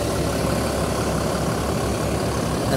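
Bus engine idling on a Pantura-route intercity bus from Tegal to Jakarta, a loud, steady, low rumble that holds evenly throughout with no talk.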